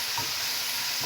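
Onions frying in a pan, a brief, steady, bright hissing sizzle heard up close with a faint stir or scrape near the start and end.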